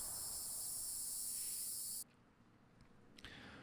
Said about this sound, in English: The cicadas' chorus reverberates endlessly, as if playing the song of life.